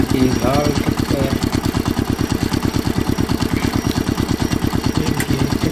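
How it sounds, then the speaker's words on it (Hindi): A red cartoon tractor's engine chugs in a steady, rapid idling rhythm for the whole stretch, loud and close, with a voice briefly audible over it. "ये देखिए लाल ट्रैक्टर,"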